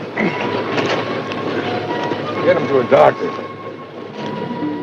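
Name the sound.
train approaching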